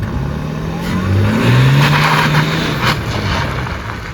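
A BMW E30 330i with a custom-built exhaust launches hard, its engine revving and rising in pitch as the car pulls away, loud and close with a steady rumble throughout.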